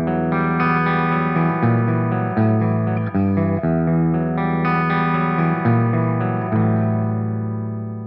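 An electric guitar played with a Tortex pick runs through a continuous arpeggiated riff with distortion and effects, sustained and loud with no talking.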